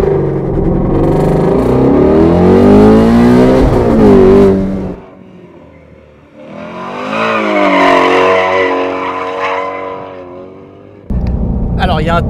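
A Ford Mustang Shelby GT350R on a race circuit, its engine loud and revving hard with pitch sweeping up and down through shifts, carrying on for several seconds, easing off briefly, then surging again.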